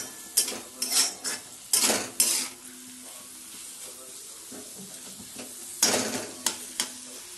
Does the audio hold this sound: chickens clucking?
no